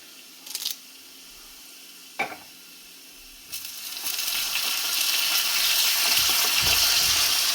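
Curry leaves go into hot oil for tempering a chicken curry: after a few brief knocks, a loud, steady sizzle bursts up and keeps hissing close by without easing.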